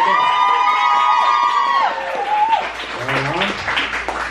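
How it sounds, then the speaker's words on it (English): An audience at a roast battle comedy show claps and cheers, with whistles and whoops over a dense wash of applause. Voices shout through the crowd noise. "let's get a round of applause and see who won that round"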